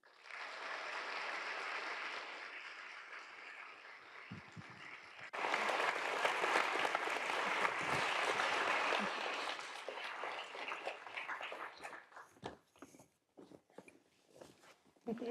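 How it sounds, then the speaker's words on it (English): A lecture-hall audience claps to welcome a moderator and a GM chief executive on stage, steady moderate applause that swells louder midway, then thins into scattered claps and shuffling before fading out. "Let's please give a round of applause and warm welcome to our moderator, Lindy Greer, and our speaker"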